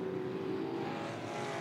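IMCA Sport Mod race cars circle a dirt track at RPM Speedway during the Fall Nationals, a steady blended engine drone carrying across the oval, mid-distance and continuous without a single car standing out.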